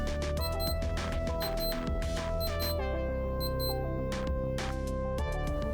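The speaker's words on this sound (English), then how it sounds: "We can test the alarm by pressing and holding the bottom right." A Casio CPA-100 Islamic prayer alarm watch sounds its alarm test: a run of bright electronic beeps and sustained tones in a quick repeating pattern, close and steady.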